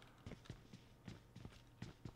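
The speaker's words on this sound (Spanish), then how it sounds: "estoy escuchando pasos, chicos. Hay alguien súper cerca." Footsteps of a nearby player in the battle-royale game PUBG Mobile, a run of about nine soft, quick steps at an uneven jogging rhythm over a low steady game hum.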